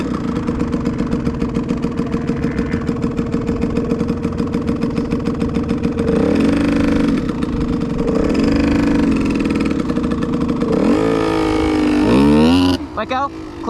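A motorcycle ridden by a learner idles with a rapid, even putter, then revs up and down in several rising and falling surges, close and loud, ending with a final rev that cuts off abruptly.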